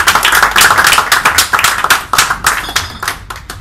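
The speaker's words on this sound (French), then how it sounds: "Nous allons acclamer pour dire merci au Seigneur." A congregation claps in thanks to God, a dense, loud, fast rhythm of many hands ringing out close and continuous with no talking.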